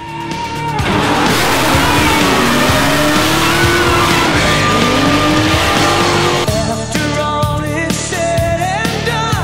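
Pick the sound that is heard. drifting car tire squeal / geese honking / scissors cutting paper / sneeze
drifting car tire squeal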